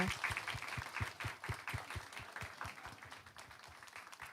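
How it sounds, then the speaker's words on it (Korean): A church congregation claps for a children's certificate ceremony at a Korean Presbyterian service, a steady run of quick, crisp, fairly close claps that gradually thins and softens toward the end. "박수 쳐주세요."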